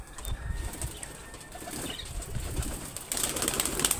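Pigeons and doves being let out of their enclosure, a burst of flapping wings and fluttering takeoffs, close and fairly loud against steady outdoor background noise, with no one talking.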